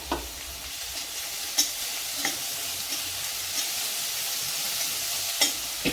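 A ground paste of ginger, garlic and green chilies sautés with onion in a hot pan, hissing in a steady sizzle with periodic sharp spatula scrapes and taps, no voices.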